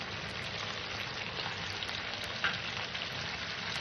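A little water is poured into a pan of braised chicken for palak chicken, producing a steady, even hiss and sizzle that holds for several seconds without speech.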